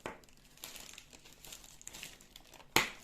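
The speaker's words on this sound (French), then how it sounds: "Donc, moi je vais enlever le plastique." Plastic wrap is peeled and crinkled off a diamond painting canvas in soft, quiet rustles, ending in one sharp, louder tearing crackle near the end.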